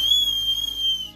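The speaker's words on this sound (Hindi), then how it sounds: "सीटी है" Toy whistle built into a child's umbrella, blown in one sustained, steady, loud high-pitched tone that lasts about a second and stops abruptly.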